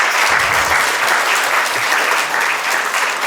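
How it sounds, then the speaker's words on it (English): Loud, sustained audience applause at a stage event welcoming a guest speaker, a thick continuous roar of many hands clapping with no letup. "Can you have a round of applause for him?"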